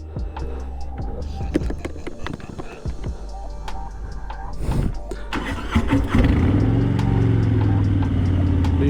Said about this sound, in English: Let's start this bike.